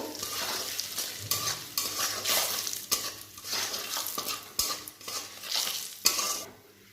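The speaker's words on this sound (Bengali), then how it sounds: "লবণ, হলুদ দিয়ে ভালো করে একটু নেড়ে চেড়ে নেব।" A spoon scrapes and stirs salt and turmeric through cholar dal in a pan, with repeated uneven strokes and clinks over a soft, quiet sizzle.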